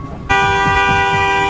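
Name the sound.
car horn honking repeatedly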